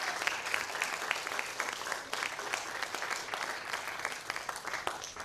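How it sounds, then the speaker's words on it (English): Audience at a literary reading event applauds a book publisher, with steady, moderately distant clapping from a crowd that continues evenly throughout. "Can I get a big round of applause for Borough Press?"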